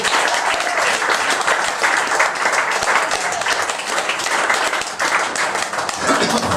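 An audience at an evening German stage talk show applauds, producing a loud, dense, sustained clapping that runs steadily for several seconds with a brief dip near the end. No voices stand out above the clapping.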